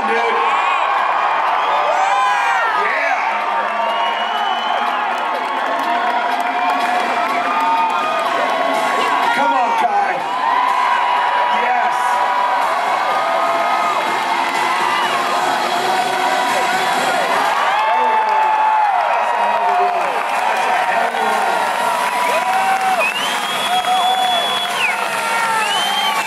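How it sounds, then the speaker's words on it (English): A crowd cheers and whoops steadily at a Psicobloc deep-water soloing competition as climber Kai Lightner works his route, with shouts and voices rising over a continuous loud roar of spectators. "Crowd's rooting for you"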